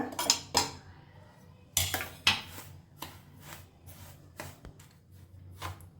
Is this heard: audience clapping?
no